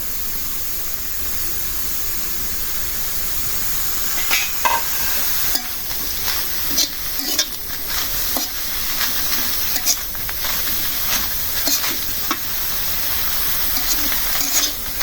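Frying and stirring of bhorta ingredients with local and imported coriander leaves in a pan, a steady sizzling hiss with scattered scraping clicks of a utensil throughout.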